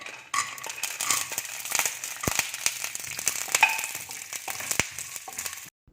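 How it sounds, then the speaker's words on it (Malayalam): Peanuts fry in ghee for parippu payasam, a close crackling sizzle with scattered pops and scraping stirs that runs for several seconds before stopping abruptly. "ഇനി അതേ നെയ്യിലേക്ക് നമുക്ക് നിലക്കടല വറുത്ത് കോരിയെടുക്കാം"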